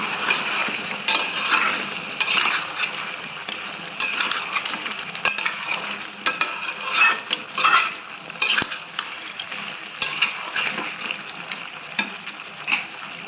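Chicken with fried onions for chicken posto is stirred in a pan, a spoon scraping and clinking steadily over a continuous sizzle, close and fairly loud with no talk.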